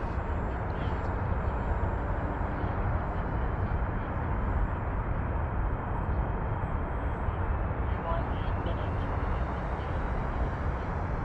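An FMS F7F Tigercat 1700mm RC plane on landing approach, a faint steady electric motor hum blended with broad wind noise throughout, distant and low in level.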